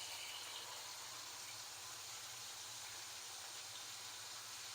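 Peshawari beef chapli kebabs frying in hot oil, a steady, even hiss and sizzle that continues without a break from start to finish.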